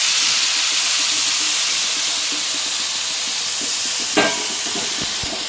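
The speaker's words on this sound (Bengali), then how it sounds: "এই জন্য এখন ঠান্ডা জল দিয়ে দিলাম" Cold water hits a hot pan of fried rice for basanti pulao, giving a steady loud steaming hiss with a sharper sizzling burst near the end and light stirring clatter underneath.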